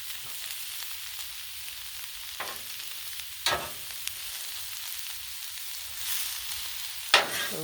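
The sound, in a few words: kielbasa sizzling on a Blackstone flat top griddle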